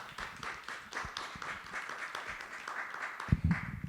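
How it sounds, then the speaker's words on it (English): Faint, steady applause for three panelists closing an online panel session on central bank digital currency, a soft, even patter of clapping for a few seconds at low volume with no speech over it. "please give three panelists a big applause"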